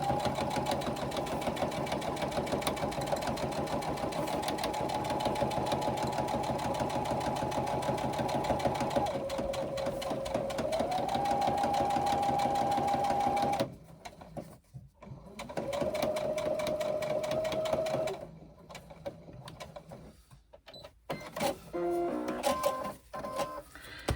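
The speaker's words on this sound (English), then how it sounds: "we're going to go back along that row of stitching" A sewing machine runs steadily, stitching back along a basted row at the top of a pocket on fabric, with a continuous whirring drone that pauses, changes speed and restarts in short bursts toward the end.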